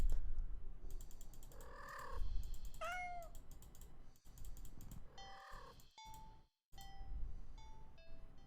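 Cat in a horror video game meows repeatedly while being petted. There are several drawn-out, wavering meows over a steady mechanical ratcheting, gear-like clicking, with a brief dropout near the end.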